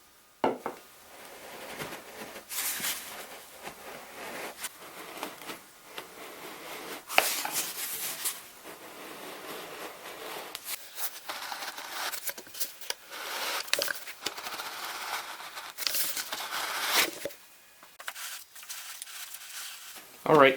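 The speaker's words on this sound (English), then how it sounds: "in order to make the cut, I just turn the can like this along the razor blade" A razor blade scoring around a turning paint can, a dry scraping rasp in uneven strokes with occasional sharper scuffs and knocks, close up and moderately loud.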